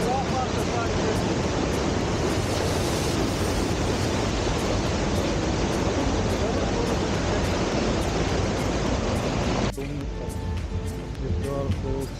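The Triberg waterfall in Germany sends a steady, dense roar of rushing water close to the listener, broad and unbroken for most of the clip before the noise drops somewhat near the end with faint other sounds.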